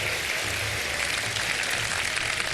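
A studio audience at a televised iftar game show applauds with a continuous, steady wash of clapping that holds at an even level, with a low hum underneath.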